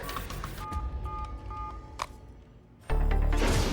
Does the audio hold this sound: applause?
no